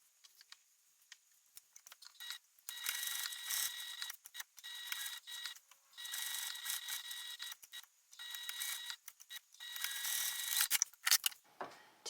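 A sewing machine stitches fabric seams with a backstitch, running in several bursts of rapid, even mechanical whirring and ticking separated by short pauses, close and moderately quiet.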